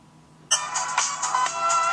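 Music plays through the small built-in speakers of a Samsung Galaxy S II and an HTC Sensation side by side, starting abruptly half a second in and continuing steadily at moderate loudness.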